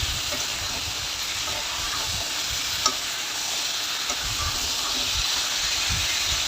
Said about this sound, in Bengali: 5 মিনিটের মতো আমি ভাজা করে নিব ভেন্ডি